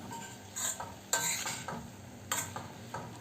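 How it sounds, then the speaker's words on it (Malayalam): Aviyal, a Kerala mixed-vegetable dish with grated coconut, is stirred in a pan with the stove switched off, giving a few soft scraping, clinking strokes with a faint sizzle between them and no talking. "ഇനി നമുക്ക് സ്റ്റൗ ഓഫ് ചെയ്തിട്ട് ഒന്ന് നന്നായിട്ട് മിക്സ് ചെയ്ത് കൊടുക്കാം"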